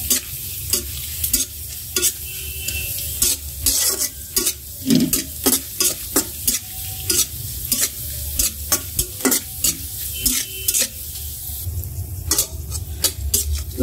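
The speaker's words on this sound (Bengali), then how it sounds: "রসুন আর মরিচ ভেজে নিচ্ছি এই জন্য।" Garlic and chilies fry in hot oil under a steady sizzle while a utensil scrapes and knocks against the pan in rapid, regular strokes, close and fairly loud.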